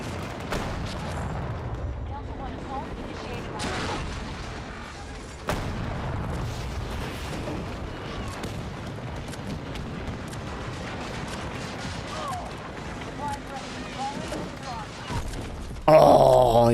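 Explosions and gunfire in the video game Battlefield 2042, a few sharp blasts standing out from a dense, rumbling background of distant shooting and booms, with a louder burst near the end.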